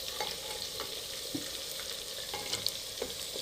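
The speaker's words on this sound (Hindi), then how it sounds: "अब इस आलू को हम लोग भूनेंगे, आलू को साथ साथ हिलाएंगे" Potatoes fry and get stirred in ghee inside a handi for Afghani-style aloo gosht, a steady close sizzle with scraping stir strokes and small pops throughout, no voices.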